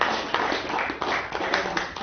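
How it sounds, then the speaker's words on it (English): An audience at a convention gives a round of applause, with dense, continuous clapping that sounds close and fills the whole stretch at a steady level. "Let's give them another round of applause"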